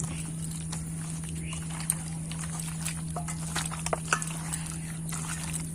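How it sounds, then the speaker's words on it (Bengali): Chicken meat being mixed by hand with spices and oil, giving soft wet squelches and light slaps in irregular bursts over a steady background hum, faint and close. "এবার পুরো মাংসটাকে মশলার সাথে মিশিয়ে নেব।"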